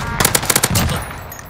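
A PPSh submachine gun fires a loud, rapid burst of about eight close shots in a video game, then cuts off into a lingering echo.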